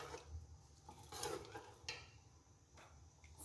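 A spoon stirs almond and spice paste into beef korma in a pot, with soft scraping and a few metallic clinks over a faint low sizzle, close and quiet.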